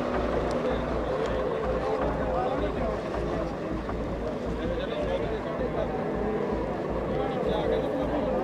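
A generator at a farmers' protest camp on the Shambhu border runs with a continuous, loud, rumbling engine drone throughout, with no pauses.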